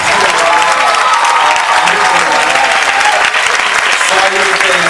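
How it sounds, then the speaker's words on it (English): A large crowd at a college graduation ceremony applauds the faculty members in a continuous, dense roar of clapping. It holds steady and loud throughout, with some voices mixed in. "Give a round of applause to all those faculty members."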